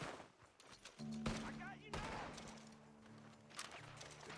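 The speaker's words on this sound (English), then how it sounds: "The gunshots are coming from that..." Gunfire in Red Dead Redemption 2, with sharp shots cracking over an ambient background while a character's voice and other game sounds mix in; the shots are moderately loud.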